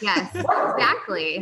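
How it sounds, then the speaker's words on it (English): A pet dog barks and yips in short bursts close by, the sounds mixed in with someone talking over them. "That's my dog. It's not me."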